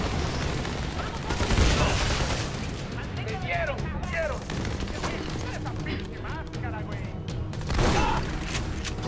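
In the video game Army of Two: The Devil's Cartel, bursts of gunfire rattle continuously with a heavier grenade blast mixed into the firefight, loud and dense, while game character voices call out over the combat.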